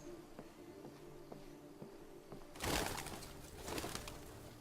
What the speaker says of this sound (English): I love these pigeons.